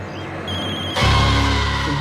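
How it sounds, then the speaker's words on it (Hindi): A phone ringing in a Hindi horror drama, a loud electronic ring that cuts in abruptly and sustains with bright repeating tones over a low ambient hum. "तुम्हारा फोन बज रहा है।"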